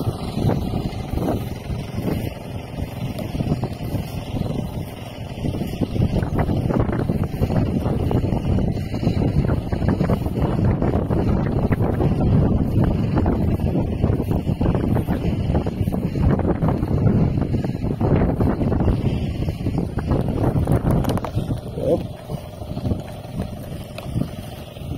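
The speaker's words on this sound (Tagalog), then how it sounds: "Sarap ng hangin sa bukid." Steady wind rushing over an open farm field and buffeting against the microphone, a broad continuous roar that swells louder midway and holds.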